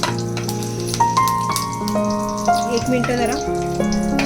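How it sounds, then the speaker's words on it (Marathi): Curry leaves and kokum sizzle in hot oil for a prawn masala, a steady close frying hiss, while someone speaks briefly over it. "तेल तापल्यावरती तेलामध्ये कढीपत्ता आणि कोकम"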